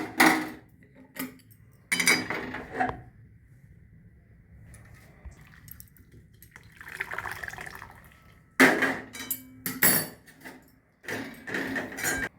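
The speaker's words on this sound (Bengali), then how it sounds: "পালং শাকগুলোকে ছেঁকে নিয়েছি।" Boiled spinach leaves being strained, with water pouring and draining in short splashy bursts, interspersed with quiet gaps and a few clinks of utensils, near and fairly soft.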